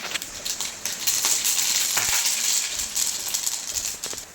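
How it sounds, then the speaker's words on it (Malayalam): Mustard seeds spluttering in hot coconut oil in a pan make a steady, close crackling sizzle, with quick pops and spits all through and no talking. "വെളിച്ചെണ്ണ ചൂടായി വന്നപ്പോൾ നമ്മൾ കടുക് ഇട്ട് കൊടുക്കുന്നു."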